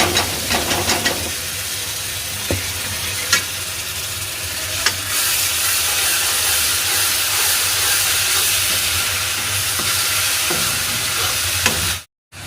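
Onions and tomatoes fry in a pan with a steady, loud sizzle and hiss, broken by a few faint stirring clinks, continuing alone until a sudden cutoff near the end.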